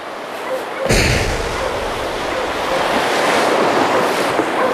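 Whitewater rapids on the Petawawa River in Ontario, a steady loud rushing roar of water with wind buffeting the microphone, continuous and close throughout.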